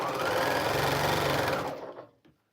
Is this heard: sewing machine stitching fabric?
yes